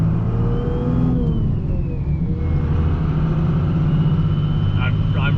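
A 2002 Dodge Ram 2500 with a Cummins 24-valve diesel and compound turbos drives along, heard from inside the cab as a loud, steady engine drone and road rumble with a rising turbo whistle, while people talk.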